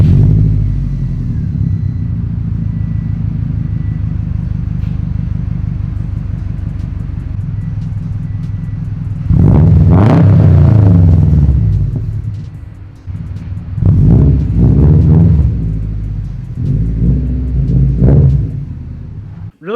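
A Subaru WRX STI, previously thought blown, cranks and fires into a steady idle with a deep engine rumble throughout, then revs up loudly in several bursts toward the end.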